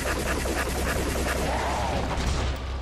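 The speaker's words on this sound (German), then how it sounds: "Und jetzt die ganze TMP-Munition einfach auf den drauf schießen." TMP submachine gun in Resident Evil 4 HD firing in rapid automatic bursts, a dense rattling volley of shots that continues steadily at close range, with no talking over it.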